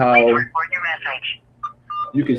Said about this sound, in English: we got the voicemail system, so I'm not able to get Mr. Shaw.